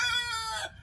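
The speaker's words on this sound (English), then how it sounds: "I got this rooster right here right here in front of me." A rooster crows close by, one short, loud cock-a-doodle-doo that fades within a second, with no talk over it.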